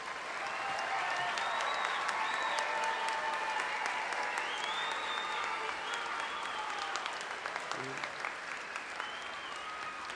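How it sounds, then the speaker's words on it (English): A commencement crowd at a college graduation ceremony applauds its graduates. The clapping is steady and sustained across the whole stretch, with a few cheers and voices mixed into the continuous wash. "graduates, another round of applause."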